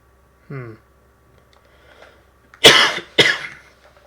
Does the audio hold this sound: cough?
yes